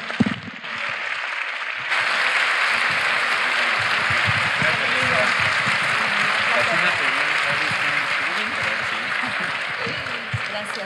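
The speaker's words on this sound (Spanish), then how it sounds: "Recibamos con un afectuoso aplauso a Roberto O'Farrill." Warm audience applause welcoming a speaker at VidaFest 2019 in Puebla, a steady, full sheet of clapping that swells after a brief quieter start and continues evenly, with some voices and cheers mixed in.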